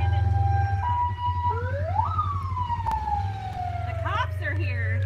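A police car siren wails in a rising and falling sweep, steady and fairly close, over a low rumble, with people talking briefly near the end.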